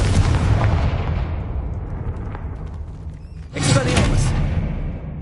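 A Confringo explosion spell in Hogwarts Legacy: a heavy, rumbling blast that decays over a couple of seconds, then a second loud burst erupts and slowly fades.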